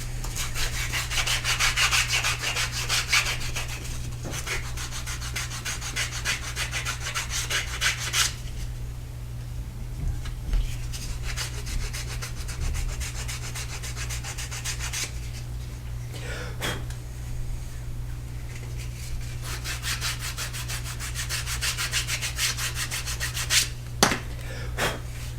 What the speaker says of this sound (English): So I'm going to start by sanding.